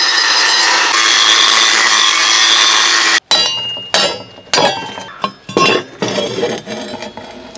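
A power tool cuts a marked square out of a metal plate, first a steady loud whine, then a series of short bursts as the tool starts and stops, with clinking metal in between, close by.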